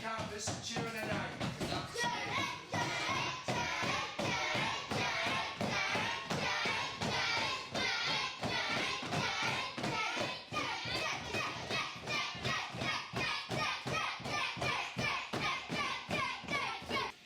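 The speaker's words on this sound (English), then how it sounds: "start banging the canvas and cheering it out" Wrestlers, joined by kids, pound rhythmically on a wrestling ring canvas while cheering, a steady run of loud thumping beats under continuous excited shouting and children's voices.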